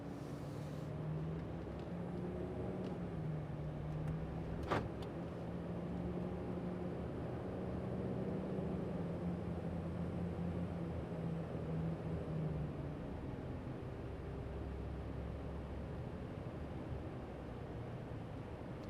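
A 2020 Dodge Ram Limited diesel pickup accelerates on the road, heard from inside as a steady low engine drone with a rising hum, wind and road noise, and one brief click partway through.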